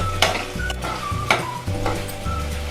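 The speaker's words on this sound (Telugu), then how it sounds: "చూడండి, అల్లం ఇలా వేపుకోవాలి." Close, crackling sizzle of ginger frying in a pan for ginger chutney, with a few sharp taps of a utensil stirring.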